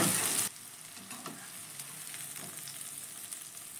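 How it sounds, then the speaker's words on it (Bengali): Vegetables, capsicum among them, fry in a kadai in oil, a soft steady sizzle with light stirring taps after a brief louder burst at the start, quiet and with no speech. "সব সবজিগুলো কিন্তু আমার এখানে খুব ভালো করেই ভাজা হয়ে গেছে।"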